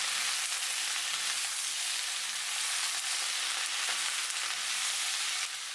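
Broccoli, mushrooms and Chinese cabbage hiss in a hot pan for a seafood rice noodle stir-fry, a dense steady sizzle with faint stirring scrapes, close and without any talking.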